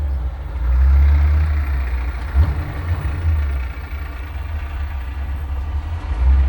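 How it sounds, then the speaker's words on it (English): A 1962 Chevrolet Bel Air with a 409 V8 and dual four-barrel carburetors idles close by, a deep, steady low rumble with a slightly uneven lope and small swells in level. "Here's our idle, that dual quads are just idling and purring."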